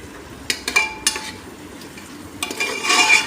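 A spoon scrapes and clinks against a pan while paneer masala is stirred, giving several close, sharp taps in quick bursts, then a louder swishing scrape at the end over a faint sizzle.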